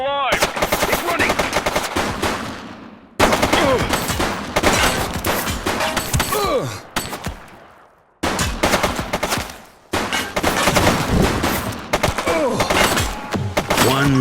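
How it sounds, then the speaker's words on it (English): Bursts of rapid automatic gunfire in The Precinct police game, loud and close. Several sustained volleys are broken by brief pauses, with little talk. "Shots fired!"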